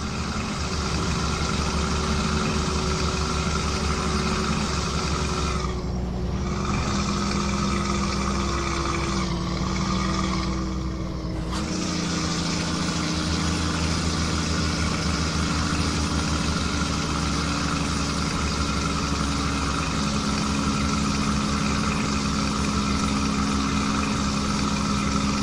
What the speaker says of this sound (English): The 387 Peterbilt getting her done.